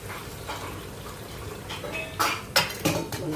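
Water is added to a pot of Gujarati undhiyu, with a soft pouring splash followed by several sharp metallic clinks and knocks of utensils against the pot, close up and fairly quiet.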